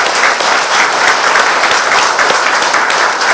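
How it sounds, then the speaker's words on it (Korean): A congregation at a church thanksgiving service marking a broadcaster's third anniversary bursts into warm, loud, sustained applause, dense and even clapping filling the hall with no voices on top. "이 시간 위로와 격려의 박수를 한번 뜨겁게 보냅시다."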